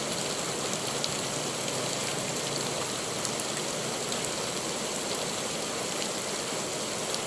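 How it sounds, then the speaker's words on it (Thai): Steady rain pours down evenly, a dense continuous hiss of drops on surfaces with no pauses or voices. "มีฝนตกลงมาแล้วพี่น้อย"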